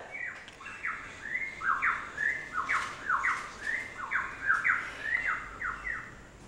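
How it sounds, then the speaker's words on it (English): A bird squawks repeatedly in quick, rhythmic bursts, about a dozen sharp harsh calls in a row, close and clear over a soft background hiss with no speech. "What amazing bird. What kind of bird is that?"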